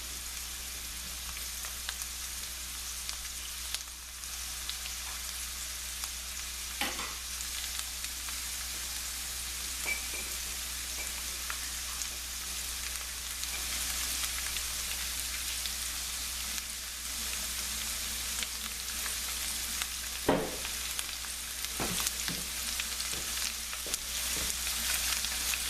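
Jasmine rice being washed in a bowl of water gives a steady, close wet swishing and trickling that runs throughout, with a few sharper splashes and no talking.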